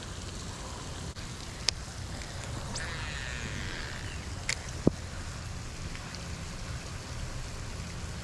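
Rain falls steadily as a soft, even hiss outdoors during a fishing outing, with a few faint clicks and ticks over the constant wash.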